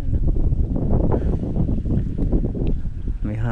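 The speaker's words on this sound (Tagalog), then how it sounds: "Lakas ang hangin na yun." Strong wind gusting outdoors under an overcast, thundery sky beside an eggplant field, roaring steadily and buffeting the microphone with a continuous rumbling rush for the whole stretch.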